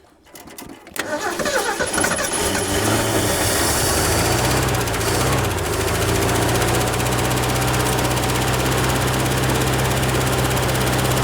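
A 1967 Ford F100 engine fires up and runs steadily, loud and close, with a constant low rumble and uneven valve clatter over about ten seconds, no talking.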